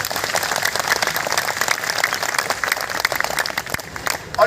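Crowd applause at a Jantar Mantar protest in Delhi, dense continuous clapping from many hands, loud and sustained, fading slightly near the end.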